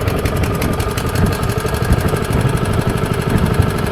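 A small engine with its choke open runs steadily up close, a loud, rough, continuous chugging drone with no pauses.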